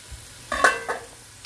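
Pancetta fat rendering in a pan for carbonara gives a soft sizzle with a few brief clinks of a utensil stirring, fairly quiet and with no talking.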